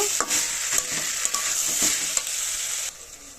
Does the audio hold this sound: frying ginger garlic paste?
yes